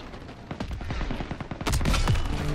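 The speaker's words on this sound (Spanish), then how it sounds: "Fuego de armas ligeras." Small-arms gunfire in the video game Call of Duty: WW2, with dense rapid bursts and shots that grow louder and heavier toward the end, close and continuous with no talk over it.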